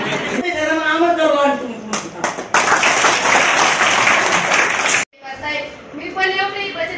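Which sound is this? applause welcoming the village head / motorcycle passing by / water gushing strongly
applause welcoming the village head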